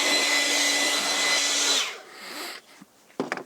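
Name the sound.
blowing off sawdust with an air blower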